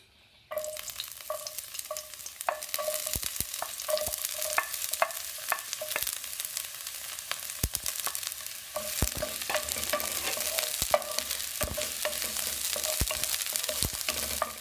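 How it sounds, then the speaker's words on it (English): Chopped onions frying in coconut oil, a continuous close sizzle broken by frequent sharp clicks and scrapes as they are stirred in the pan. "We'll add our chopped onions"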